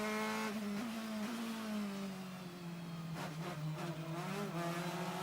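DTM touring race cars from 2001, including an Opel, race in a close train at the Nürburgring, with loud, sustained engine notes rising and falling as they pass and shift, no voices.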